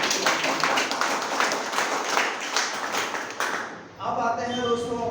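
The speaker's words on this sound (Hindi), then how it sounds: "तो शानदार ताली हमारे सर के लिए होना चाहिए।" An audience at a gathering claps steadily, a dense, continuous wash of hands that tapers off near the end as a voice starts speaking.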